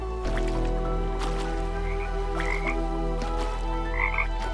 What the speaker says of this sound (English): The frogs just spawn out of the ground.